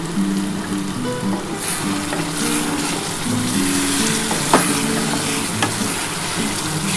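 Mutton sautés in oil that has separated in a pan for a dak bungalow curry, a loud continuous frying sizzle with occasional scraping stirs and a brief clink partway through.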